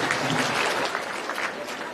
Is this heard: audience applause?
yes